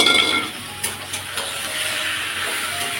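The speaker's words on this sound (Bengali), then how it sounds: "এইবারে আমি যে ম্যারিনেট করে মাংস রেখেছিলাম এটা আমি দিয়ে দিলাম।" Marinated meat dropped into hot oil in a frying pan, giving a steady close hissing sizzle that starts loud and settles into a continuous crackle with a few small pops.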